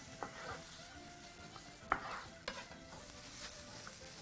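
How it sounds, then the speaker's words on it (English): Liver sautés quietly in a pan, a soft sizzle under faint, irregular scrapes and clinks of a utensil stirring and mixing it through; low and close with no talking. "you can keep sauteing and mixing that through"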